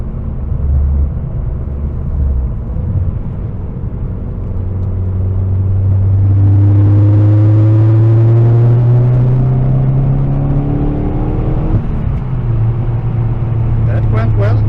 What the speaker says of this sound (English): this car just sounds like a fighter jet with this exhaust